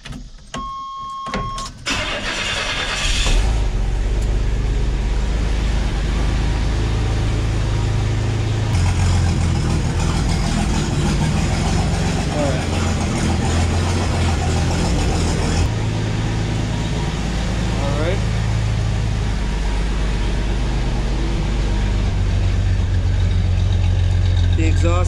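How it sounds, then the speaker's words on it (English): Old pickup truck engine cranking briefly, catching and then settling into a loud, steady rumbling idle with a deep low throb that continues for over twenty seconds. "Let's go ahead and turn on this truck and you'll be able to maybe hear for yourself."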